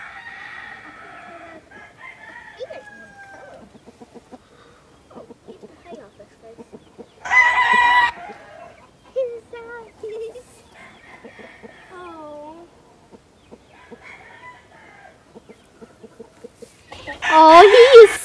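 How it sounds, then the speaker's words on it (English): Farm chickens scratching through old hay cluck intermittently, with occasional louder calls and crowing bursts, while people talk nearby. "We let the chicken scratch through the old hay."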